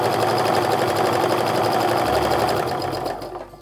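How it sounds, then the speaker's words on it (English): A sewing machine stitches a quarter-inch seam along a charm-pack Christmas stocking, its steady rapid whir running loud and close without pause before slowing and fading near the end. "I'm also going to sew 1/4-inch down the other side as well"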